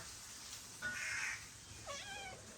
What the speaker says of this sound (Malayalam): കൊറേ ആൾക്കാർ പാല് കുടിക്കുന്നുണ്ട് കണ്ടോ